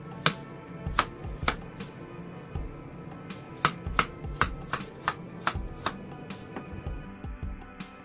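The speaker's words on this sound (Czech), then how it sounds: "3 středně velká jablka nebo 2 velká jablka nakrájíme na malé plátky nebo na kostičky." Apples being chopped into small slices or cubes on a cutting board, a series of sharp knife strikes in an irregular rhythm, close and fairly clear, with no talk.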